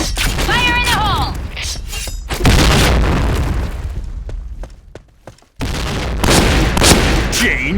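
A grenade goes off in a shooter video game with a loud, heavy boom that rolls into a decaying rumble, surrounded by other game effects, chirps and clicks, with a second loud burst of noise near the end.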